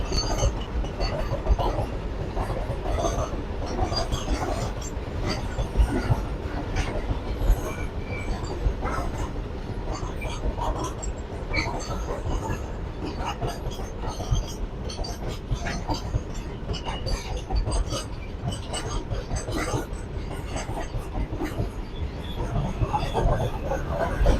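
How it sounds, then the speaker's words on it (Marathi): A train passes through Vishrambag railway station with a continuous rumbling clatter of wheels on rails and occasional squeals, sustained for the whole stretch with faint voices in the background. "इकडे ट्रेन आता विश्रामबाग रेल्वे स्टेशनवरून"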